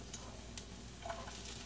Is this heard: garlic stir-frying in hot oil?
yes